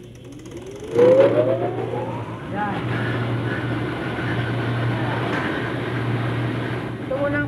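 Electric motor of a diesel injection pump calibration bench, set up for a Hino J08C pump, starts with a rising whine and then runs at a steady hum and drone, close and loud, while someone speaks briefly.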